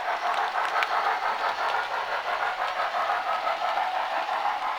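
A model railway Somerset and Dorset locomotive hauling coaches runs steadily, giving a continuous close whirring rumble with faint rhythmic clicking and no talking.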